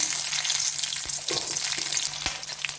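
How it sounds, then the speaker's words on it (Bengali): Nigella seeds and flour sizzle in oil left over from frying lentil fritters, a constant close hiss with a few sharper pops and stirring clicks. "ওই তেলে বড়া ভাজার তেলে আমি কালো জিরে দিচ্ছি আটা দিচ্ছি"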